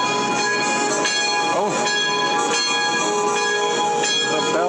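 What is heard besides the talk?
church bells ringing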